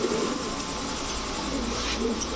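A male red checker racing pigeon coos in soft low bursts, close by, over a steady background hiss.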